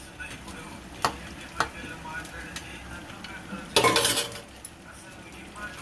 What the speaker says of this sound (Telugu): కొంచెం కలర్ వచ్చేదాకా వేపుదామండి